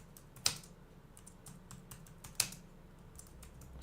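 Quiet computer keyboard typing, a sparse run of light key taps with two sharper, louder strokes, heard alone at low level.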